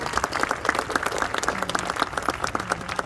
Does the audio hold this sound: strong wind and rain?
no